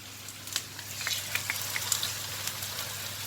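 Bhajis fry in hot oil in a pan, giving a close, steady crackling sizzle dotted with sharp little pops and spits, alone with no talk.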